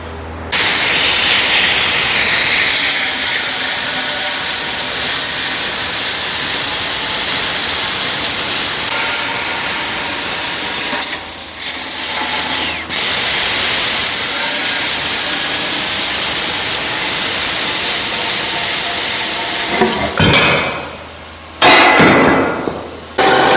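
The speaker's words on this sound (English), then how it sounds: "I'm gonna fire up the plasma cutter and I'm gonna at least cut it here" Plasma cutter slicing through the heavy end of a steel fender on a Ford 7000/7200 row crop tractor, a loud continuous roaring hiss running for about twenty seconds with brief dips, no voices.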